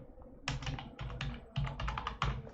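Rapid clattering keystrokes on a computer keyboard while entering data into an Excel salary slip, arriving in several quick bursts with brief pauses between them, close and clear with no talking.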